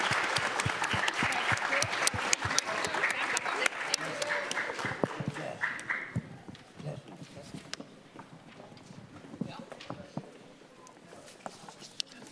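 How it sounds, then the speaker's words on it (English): An audience at a citizenship challenge event gives a sustained round of applause, dense and loud at first, then thinning into scattered claps, with some voices under it. "let's keep a round of applause going"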